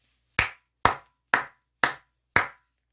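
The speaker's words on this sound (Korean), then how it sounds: "모두들 수고했기 때문에 우리 모두 크게 박수 한번 치고 가도록" Five single sharp hand claps, close and evenly spaced about half a second apart, each crisp and isolated against silence, marking the close of the year's last stock trading day.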